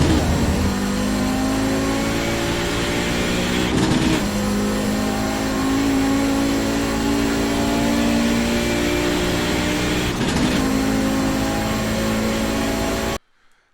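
Audi 90 GTO race car engine in iRacing at Road America, a loud sustained high-revving drone that climbs in pitch, with two brief dips at gear changes before rising again and cutting off abruptly.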